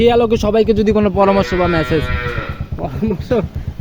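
A dairy cow at a dairy farm moos loudly and close up in long, drawn-out calls, with a second shorter low at the end and nearby sounds mixed in.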